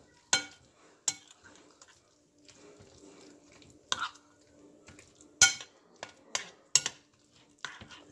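Baked beans with bacon and hot dogs being stirred in a pot, with sharp spoon clinks and scrapes against the metal at an irregular pace, close and fairly loud over a quiet background.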